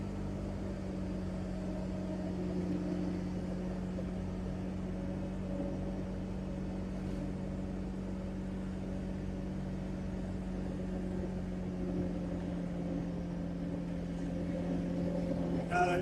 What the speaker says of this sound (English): I'm talking over the sound of the car